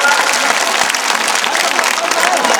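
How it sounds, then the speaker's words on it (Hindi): A crowd at a Bharatiya Janata Party gathering claps in welcome, a dense, loud, steady wash of applause that fills the moment without pause. "ताली बजा के स्वागत किया जाता।"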